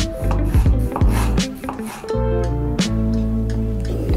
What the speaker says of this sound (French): on va tailler la tomate et le chou. Un petit peu de chou finement. Et quelques rondelles de tomate.